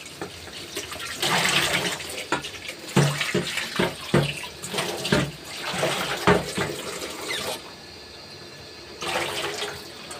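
Raw chicken being washed under a running kitchen tap for a barbecue, water splashing and gurgling steadily with uneven bursts, close and moderately loud, ending in a quieter trickle.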